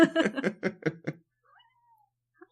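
A pet cat meows close into a microphone, a rapid run of about six loud, yowling calls, then a short quiet pause and a faint squeak.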